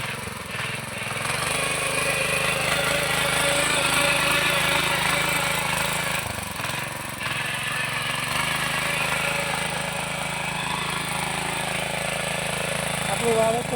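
A farm machine's engine drones steadily while ploughing a field, a loud, continuous mechanical rumble with slight shifts in pitch, and voices come through at times.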